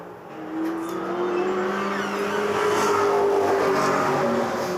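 Racing trucks roar around the oval at Hythe Motor Speedway, their engines droning loudly and climbing in pitch as they pass close by, with no voices over the noise.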